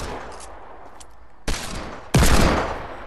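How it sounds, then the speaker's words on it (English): Two sharp, loud shotgun blasts in a Fortnite Creative 1v1 on an ice-covered island, the second heavier and decaying more slowly, with faint game ambience before them and no speech. "Shotgun on her"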